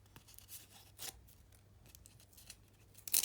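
Scissors snip through a paper surprise packet in a few quiet, separate cuts, ending with a louder, crisp cut.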